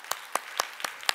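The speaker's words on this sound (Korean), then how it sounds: "영생과 천국을 주신 주님께 감사 박수" A Korean church congregation at a Sunday service claps in unison, five crisp, evenly spaced claps in quick succession, close and clear with no talking.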